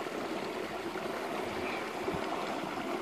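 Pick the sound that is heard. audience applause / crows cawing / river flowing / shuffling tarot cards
river flowing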